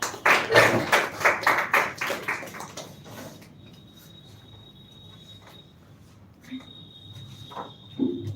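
A few people in a classroom clap in a short, loud, evenly spaced burst for about three seconds, then it falls to quiet room tone with a thin high electronic whine and a couple of soft knocks.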